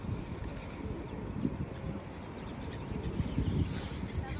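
Pigeons coo softly in a flock outdoors on a winter day in Kuwait, low murmuring calls repeating over faint background noise and occasional voices.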